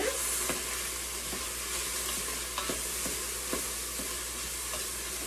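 Onions sizzling in an Instant Pot, a soft steady frying hiss with occasional light crackles and stirring taps, close and fairly quiet with no talking.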